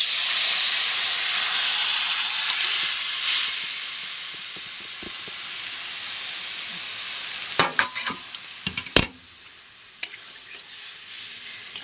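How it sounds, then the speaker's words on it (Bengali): Dal goes into spices sautéed in a pan, giving a strong, steady sizzling hiss that eases off slightly, followed by a run of sharp scraping and clattering stirring knocks against the pan near the end, with no talking over it. "ডালটা দিয়ে দিচ্ছি।"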